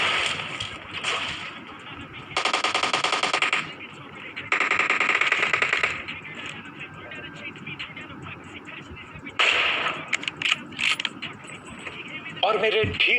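Gunfire in an open-ground fight in a shooting video game comes in several sustained automatic bursts with quieter gaps between them, while someone talks almost throughout.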